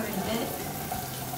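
Garlic frying with tomato paste in a pan, a soft, even sizzle heard close and quiet throughout.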